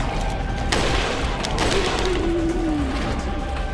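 Rapid gunfire bursts from the Resident Evil 4 Mercenaries mode, loud and continuous over a dense game soundscape with enemy noise, an early sharp shot followed by sustained firing.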